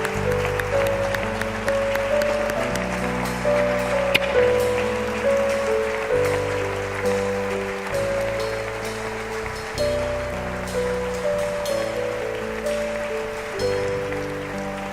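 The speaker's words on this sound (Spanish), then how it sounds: "Dale un aplauso a tu Padre Celestial" Congregation applauding during a Spanish-language Father's Day church service: dense, steady clapping that carries on under sustained musical chords for the whole stretch, with no talking.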